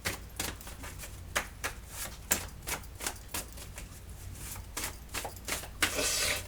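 Tarot cards are shuffled by hand in a string of sharp, crisp card slaps and flicks that come at an uneven pace. A longer riffle or rustle ends the run, and no one speaks over it.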